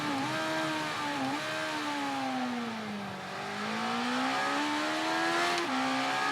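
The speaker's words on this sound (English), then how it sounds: "Keeping some throttle in as well, so we can keep the revs up and don't try and seize the engine" A motorcycle engine in the Ride 3 racing game holds a loud, continuous drone whose pitch drops under hard braking and then climbs again as the throttle is kept on.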